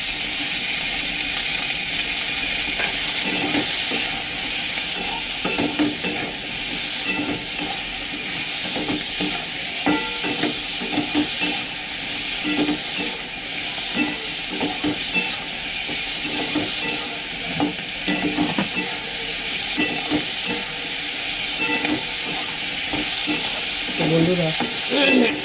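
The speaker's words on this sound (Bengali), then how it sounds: "এবার পরিমাণ মতো আমি নুন দেবো এতে। এতে অল্প একটু গোলমরিচ গুঁড়ো দেবো।" Rice fries in a pan with salt and ground black pepper, sizzling loudly and steadily while a spoon scrapes and stirs in repeated strokes throughout, close up, with a brief spoken word.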